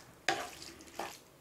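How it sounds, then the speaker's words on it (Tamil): A spoon stirring vegetables into a simmering curry gravy in a pan, two short wet scraping strokes close by over a faint sizzle. "வெஜிடபிள்ஸ் சேர்த்து நல்லா மிக்ஸ் பண்ணி விடுங்க"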